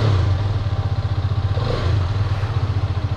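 A Hero Karizma XMR 210 motorcycle engine runs nearby at a steady idle, its low, pulsing thump repeating evenly and fairly loud, with no talking over it.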